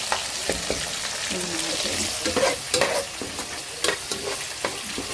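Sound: frying tender okra in a pan

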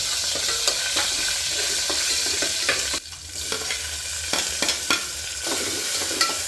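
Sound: tempering (oggarane) sizzling in hot oil

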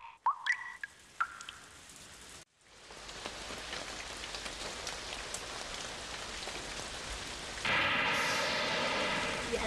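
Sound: rain falling in a cartoon

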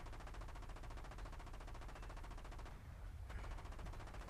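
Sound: machine gun firing in War Thunder Mobile video game

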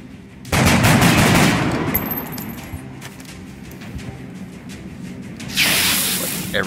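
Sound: gunfire from squad shooting an enemy in XCOM Long War video game

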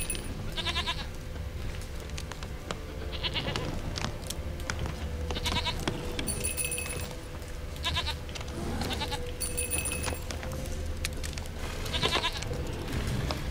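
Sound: goat bleating in The Witcher 3 video game

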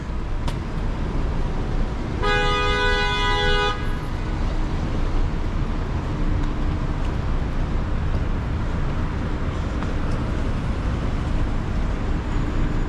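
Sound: traffic jam with car horns honking

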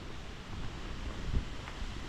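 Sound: wind blowing outdoors

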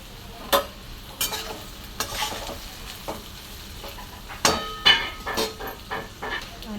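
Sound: stirring ivy gourd (tondli) vegetable in pan

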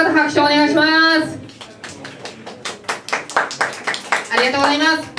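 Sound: audience applause

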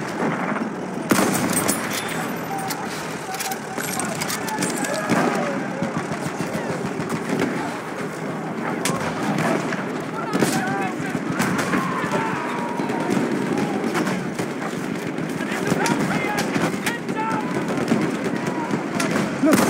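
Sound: enemy machine gun firing in video game Battlefield 1

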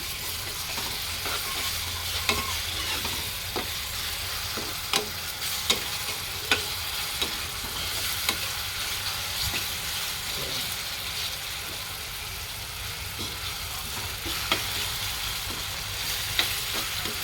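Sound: sautéing green chili and coriander paste

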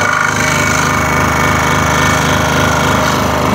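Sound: saw blade cutting a wooden workpiece

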